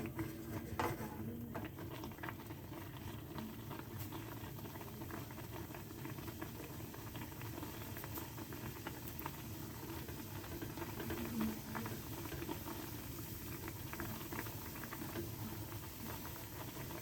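A pot of water coming to a boil with spaghetti in it, a steady low bubbling and simmering rumble, faint and continuous with no talking.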